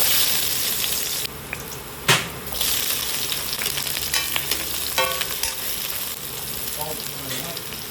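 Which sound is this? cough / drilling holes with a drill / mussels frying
mussels frying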